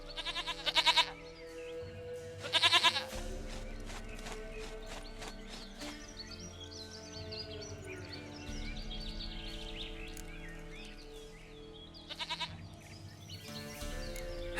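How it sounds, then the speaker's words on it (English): Goat bleats in The Witcher 3, coming in short loud bursts near the start, around three seconds and again near twelve seconds, over steady game music and ambience. "Goat of mine, dearest, sweetest goat."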